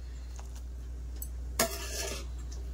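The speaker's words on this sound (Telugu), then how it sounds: "ఇప్పుడు మనం సొరకాయ కూడా వేసేద్దాం." Bottle gourd pieces drop into a pot of boiling milk for kheer, followed by a spoon stirring and clinking against the pot, a short clatter then soft scraping over a steady low hum.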